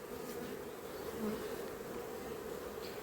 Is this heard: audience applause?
no